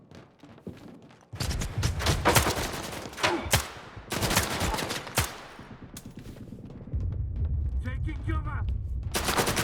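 Bursts of automatic gunfire from a video game firefight ring out in dense volleys, pausing briefly between clusters of rapid shots, with a voice speaking over the later stretch.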